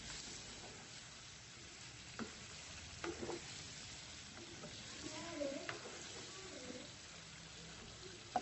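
Chicken pieces fry with chopped green chillies in a karahi pan for a chicken karahi, giving a steady close sizzle with occasional scraping stirs and clinks.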